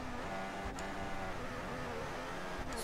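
Formula 1 car engine in the F1 2014 racing game hums at a steady, fairly quiet drone with a constant tone, briefly dipping and shifting twice, no speech.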